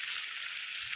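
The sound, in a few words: aire fish being sautéed in a pan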